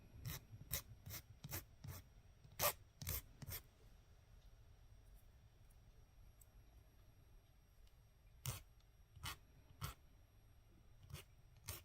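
A hand file rasps against the rough end of a stretch bracelet in short, separate strokes, grouped in quick bursts, then a pause, then a few more strokes. Close and fairly quiet.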